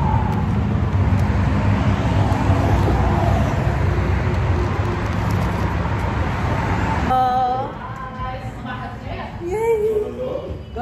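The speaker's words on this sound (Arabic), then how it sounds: "كلش ترافيك برا" Road traffic outside, a steady loud wash of passing cars and other vehicles that fills the first seven seconds, then drops to a quieter rumble with voices and other sounds on top.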